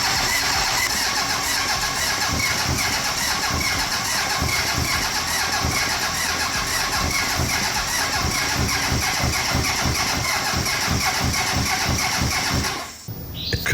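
A 1980 Honda CB750F motorcycle engine cranks on a weak, briefly charged battery, a loud, close, rapid rhythmic churning of the starter that runs on without catching, then cuts off abruptly near the end.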